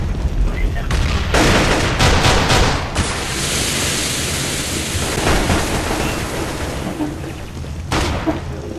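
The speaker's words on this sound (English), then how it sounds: "I'm throwing a flashbang. Grenade!" A flashbang grenade goes off in Counter-Strike: Global Offensive, a loud broadband blast with a ringing wash that follows it, amid gunfire and other game sounds.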